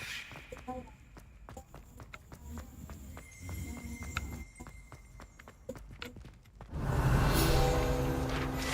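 Horse hooves clip-clop at a steady walking pace in the Hogwarts Legacy video game, fairly quiet, before a louder rushing burst of noise takes over near the end.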